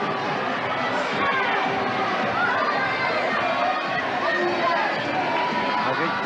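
Ice hockey arena crowd during a player fight in a 1999-2000 London Knights ISL game, a loud sustained roar of shouting and chatter with no break.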